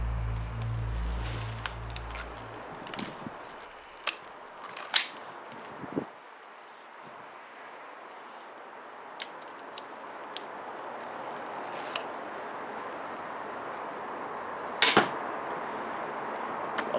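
An Armex Tomcat 2 crossbow fires a bolt outdoors, with a low hum at the start, then quiet broken by sharp snaps and thuds, including one loud crack near the end.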